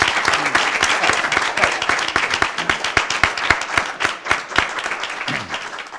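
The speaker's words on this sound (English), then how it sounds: "another round of applause for our guests" An audience at an evening panel on Native Americans applauds its guests, with loud, close claps that thin out and become more distinct toward the end, leaving separate individual hand claps.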